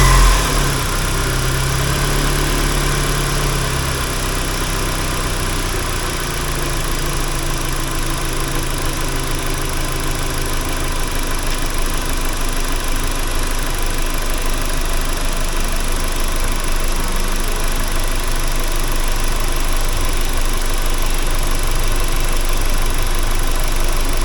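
A Nissan Livina engine idles steadily with no revving, an even mid-pitched hum with a constant low throb that holds unchanged throughout, close and alone.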